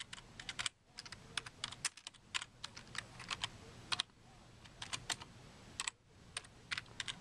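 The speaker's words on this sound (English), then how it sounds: "Forgive the misspelling since I'm typing this with one hand." Rapid one-handed typing on a computer keyboard, close and clear, with irregular bursts of clicking keystrokes and brief pauses between runs; no voices.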